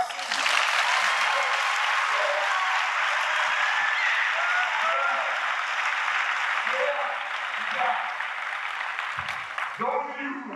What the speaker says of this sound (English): Round of applause for the ones still standing